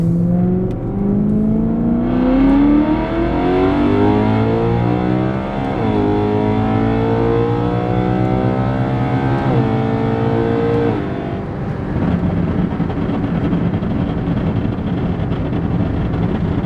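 Tuned BMW E9X M3 with a stage 2 tune pulls hard in second gear on a highway, engine note climbing steadily in pitch for about nine seconds before the throttle lifts and the sound drops to a lower rumble.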